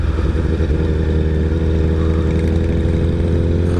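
A motorcycle engine drones steadily and close by on a road near a lake, its loud, even hum holding without pause and with no talk.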